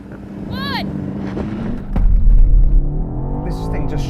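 High-performance SUV launching off the line in a drag race among a BMW X6M, Audi RSQ8 and Porsche Cayenne Turbo SE: a low engine rumble swells sharply into a loud roar midway, with voices heard over it.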